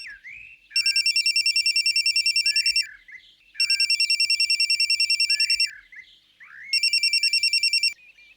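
A telephone rings loudly and alone in three sustained electronic bursts separated by short pauses.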